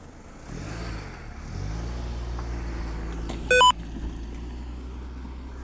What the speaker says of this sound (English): Right, there's a car coming